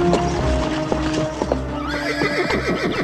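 A cartoon sound effect of a galloping grey horse plays loudly and up close, with rapid rhythmic clip-clop hoofbeats and a whinnying neigh.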